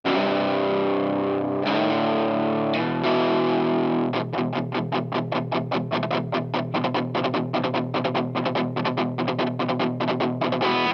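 Fender Tom DeLonge Starcaster electric guitar through heavy distortion, starting with sustained ringing chords, then switching to a fast, tight rhythmic run of chugging strums that fills the rest of the passage loudly, with no voices.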